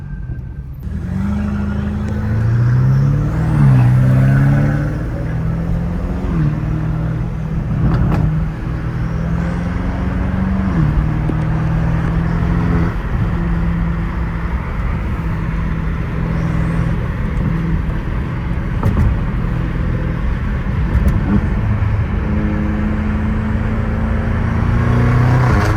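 A BMW M5 Competition drones loudly at low gear, with a steady engine hum and a few sharp crackling exhaust pops over it as it runs.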